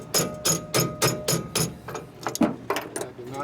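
Hammering on a motorcycle rear axle pin of a 2017 Harley M8 Touring, with a safety tool used as the hammer: a quick run of sharp metallic strikes, a pause, then more uneven blows close by.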